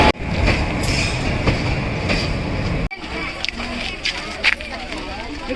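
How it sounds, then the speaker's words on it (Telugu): An electric passenger train on the Komatipalli–Vizianagaram line rumbles and clatters close by as passengers board from track level without a platform. Squeals and knocks ring out over the steady roar, which breaks off abruptly partway through. "ట్రైన్ ఎలా ఎక్కుతున్నారు"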